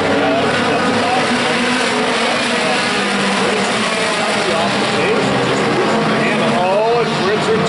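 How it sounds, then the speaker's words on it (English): Race cars battle through a turn on a racetrack. Loud, continuous engine roar with rising and falling whines of several passing cars, heard under an announcer's excited commentary. "the action going into turn number three, Armstrong Jr. was hard into the rear bumper"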